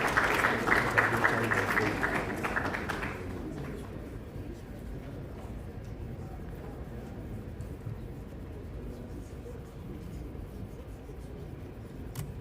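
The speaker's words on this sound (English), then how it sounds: "Please make him welcome with a round of applause." An audience at a business pitch competition grand finale gives a round of applause that fades out after about three seconds, leaving low room noise and faint murmuring.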